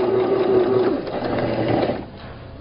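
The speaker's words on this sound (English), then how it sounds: "You are going to continue sewing all the way down." A sewing machine stitches down a tote bag pocket with a steady, close mechanical whir that runs for about two seconds and then stops.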